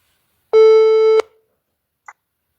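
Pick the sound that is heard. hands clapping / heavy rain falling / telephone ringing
telephone ringing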